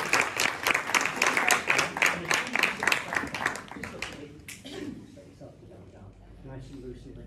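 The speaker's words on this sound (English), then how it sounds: "give them a big round of applause" Audience at a comedy hypnotist show on a seaside pier breaks into steady, dense applause for about four seconds, then it thins out and fades as a voice carries on talking.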